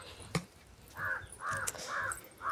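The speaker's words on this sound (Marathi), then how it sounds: "हे बघा, कावळा" A crow caws three or four times close by in a home garden, harsh calls spaced about half a second apart, after a single sharp knock.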